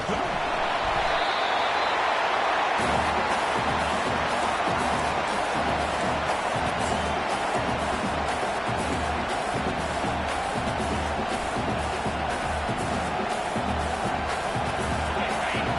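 Stadium crowd in the Madden football video game, a steady broadband roar with rhythmic low thumps, continuous and fairly loud throughout, with voices mixed in the background.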